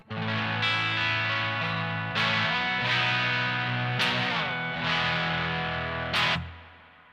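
Sustained distorted electric guitar chords through a Two Notes Le Clean preamp, reverb added via its effects loop, each strum ringing out with a spacious reverb tail that lingers after the last chord.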